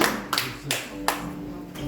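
A single person claps in a church service, giving four sharp, evenly spaced claps that ring against a quiet, roomy background.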